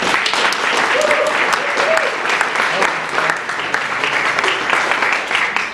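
Audience applause at a college trustees event, dense sustained clapping from a sizeable crowd filling the room, steady and loud throughout with a murmur of voices mixed in.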